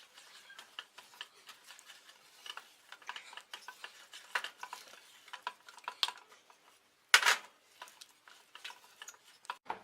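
Sesame powder and jaggery being mixed in a pan, giving quiet irregular scraping and tapping of a spoon against the pan, with one louder scrape partway through.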